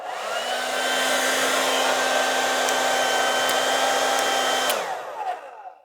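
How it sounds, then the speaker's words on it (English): A secondhand hair dryer switched on and running close by, with a loud, steady whooshing roar and motor whine that holds for several seconds before the pitch drops and it winds down. "Let's look at these hair dryers now."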